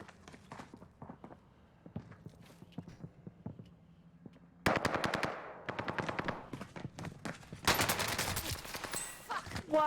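Video game gunfire: sparse scattered shots at first, then loud rapid automatic bursts in dense clusters that grow more intense toward the end.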